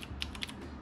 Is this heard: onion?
no